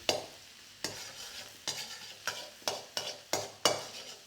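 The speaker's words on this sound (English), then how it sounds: "when the oil is hot enough, you're going to get about half your garlic into here. Just let that fry nicely." Garlic fries in hot oil in a wok under a quiet continuous sizzle. About seven crisp scraping strikes of a utensil on the metal come at fairly regular intervals, and no one speaks.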